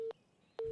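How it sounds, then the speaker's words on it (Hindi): A telephone busy signal: two short, steady beeps separated by a pause of silence, clear and close. "लगता है वो बिजी फोन है।"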